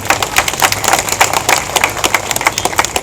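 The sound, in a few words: audience applause at public meeting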